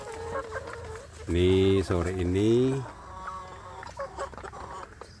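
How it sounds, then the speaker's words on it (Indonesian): Free-range village chicks clucking loudly as they are fed leftover rice in a grow-out pen, a burst of harmonic calls mid-clip with someone talking before and after. "Sore ini saya memberi makan anak ayam kampung saya di kelompok pembesaran"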